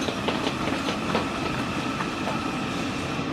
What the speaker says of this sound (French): Le tram.